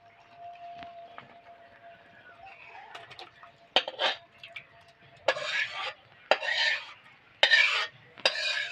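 Cooked vegetarian taro leaves scraped from a pan into a serving dish: after a faint hum and a few clinks, a series of close, rasping scrapes of a metal spoon against the pan arrives in uneven bursts.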